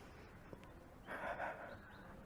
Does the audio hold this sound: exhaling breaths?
yes